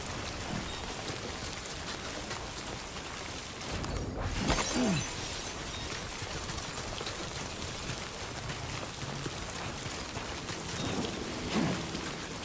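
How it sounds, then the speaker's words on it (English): Steady rain falls in the video game Death Stranding 2, a dense, even hiss throughout with a couple of louder sweeping swells, no talking. "This will be beautiful if it wasn't raining out."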